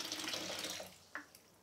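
Tap water runs steadily as a film developing tank is rinsed during a room-temperature C-41 process, a broad hiss that fades near the end, with a few faint knocks and splashes.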